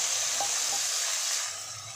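Asafoetida and cumin sizzle in hot oil in a kadai, a close, steady hiss of frying that fades slightly toward the end, with a couple of faint knocks early on.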